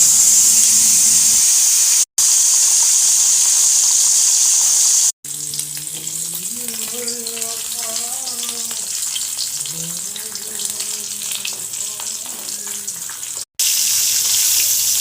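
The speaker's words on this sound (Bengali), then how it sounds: "মাছটা আমি কড়াইতে ভেজে নিচ্ছি তেলটা গরম হয়ে গেছে" Fish frying in hot oil in a wok, a steady broadband sizzle that runs through the clip with brief dropouts, while a person talks over it for most of its length.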